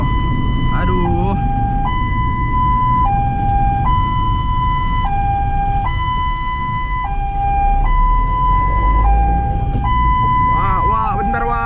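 Ambulance siren in a two-tone hi-lo wail, alternating steadily and loudly for the whole stretch at a traffic light, with road traffic rumbling underneath and a brief voice near the start and end.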